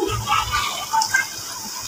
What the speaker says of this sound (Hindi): यहाँ पर थोड़ा सा पानी ऐड कर दूँगी